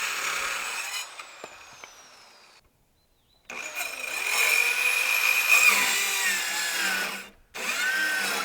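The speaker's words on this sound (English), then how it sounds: "I just go by one, cutting each one of the boards to fix my mistake" A power saw cuts wooden boards while building a backyard chicken coop roof: a whining motor buzzes through the cut, stops for a gap of silence, then starts again for a second loud, close cut.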